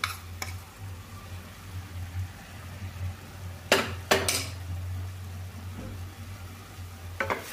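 Bisi bele bath rice is stirred with masala in a pot, giving a few scattered metallic scrapes and clinks over a low, steady kitchen hum, fairly quiet overall.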